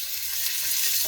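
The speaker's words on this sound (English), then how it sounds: "Then I'm going to cook the onions with the mushrooms." Onions and mushrooms frying in olive oil and butter give a steady, close sizzle of even, broadband hiss that holds for about a second with no voices.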